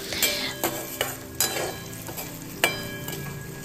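Luchi deep-frying in hot oil for a Lakshmi puja meal, a steady close sizzle with a few sharp clinks and utensil knocks over the top.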